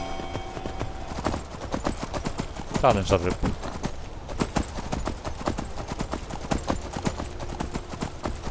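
A horse's hooves clip-clop in a steady, fast rhythm in the video game Skyrim during a night-time scene, a whinny-like burst in the middle, with someone talking over the hoofbeats.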